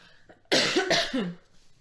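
A couple of close, harsh coughs burst out in quick succession from people at a podcast microphone, with no speech around them.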